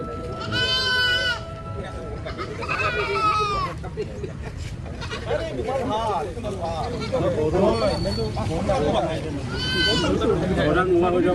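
Goats bleating at a weekly livestock market, several loud wavering bleats near and far over a busy crowd murmur with people talking throughout.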